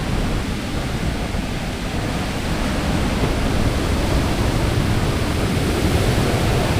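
Strong waves crashing continuously on the shore at Baler, Aurora, a broad loud roaring wash that swells slightly, heard up close with no voices.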